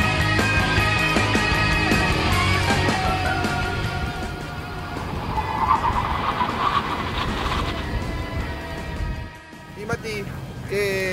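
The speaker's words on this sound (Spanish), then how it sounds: "No se puede creer, insisto, lo que acelera este auto." An Audi RS7 with all-wheel drive launches at full throttle, a loud rising engine roar climbing through the gears before easing off near the end, with someone talking over it.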